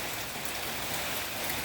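Steady rain falls in rural Thailand during the rainy season, a dense, even hiss of drops on surfaces close by with no letup and no voices.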